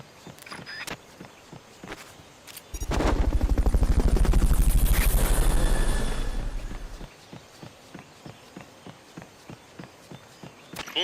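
Fulton recovery helicopter in a Metal Gear Solid video game: a loud, pulsing rotor-like roar that swells for about four seconds and then fades, over a steady ticking of footsteps.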